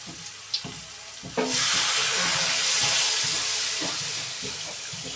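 Water poured into a hot pan of sautéed potatoes and oil, bursting into a loud, close sizzle and hiss that swells after a few clicks of utensils and then slowly eases off while continuing.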